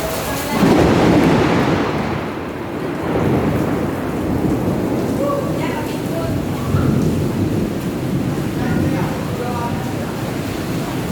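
Afternoon summer rain falls steadily with rolling thunder, a loud continuous downpour rumbling throughout with swelling thunder near the start and some faint background voices.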